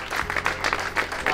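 Wedding guests clapping together in a brief burst of applause, dense and fairly close, lasting just over a second.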